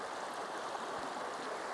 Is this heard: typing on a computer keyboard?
no